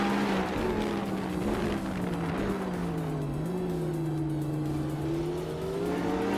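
A 2015 Ferrari FXX K hypercar races in a video game, its engine holding a loud, sustained whine with slight dips and rises in pitch as it drives, with no talk over it.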